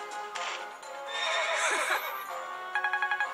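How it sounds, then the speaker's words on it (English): A horse whinnies loudly in the Fire Emblem Awakening video game, with game-like clip-clop hoofbeats and a short run of chiming tones near the end, no voices. "But Sully's horse looks kind of cool"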